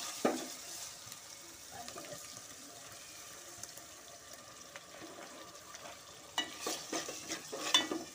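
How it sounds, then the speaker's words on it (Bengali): Onion, garlic paste and ginger paste being stirred and sautéed with spices in a pan, giving a soft continuous frying hiss with scraping stirs that grow sharper and louder near the end, no talking. "আমি মশলাটা একটু কষায় নিব।"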